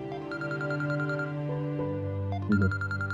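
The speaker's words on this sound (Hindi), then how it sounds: "फोन आ गया उसका।" A phone rings with an incoming call in a Pakistani drama scene, a repeating electronic ringtone melody playing clearly and alone with no voices over it.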